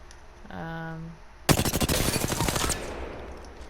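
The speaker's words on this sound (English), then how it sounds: "The R301 is kind of slow, but it also works." R-301 rifle fire in the shooter Apex Legends: a steady rapid burst of evenly spaced, loud close shots lasting over a second, preceded by a brief tonal game sound and followed by a decaying tail.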